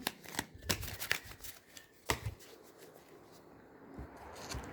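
Tarot cards being shuffled and handled, with a quick series of soft, crisp riffles and taps, a sharper snap midway, then quieter rustling.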